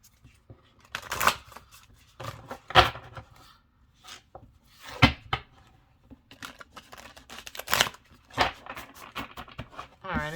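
Oracle cards being shuffled by hand in irregular riffling bursts, crisp close-up flutters and slaps separated by brief pauses, with a voice speaking quietly in between.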